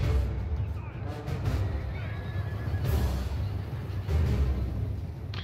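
Light cavalry horses whinnying in the Medieval 2 Total War battle game, their neighs rising out of a dense, continuous wash of battlefield noise.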